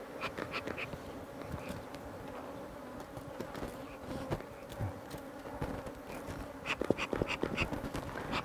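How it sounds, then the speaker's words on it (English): Honey bees buzz around an open hive during a honey harvest in Uganda's Karamoja region, a steady close droning hum with scattered clicks and knocks. "I'm preparing to close, so I want to chase the bees"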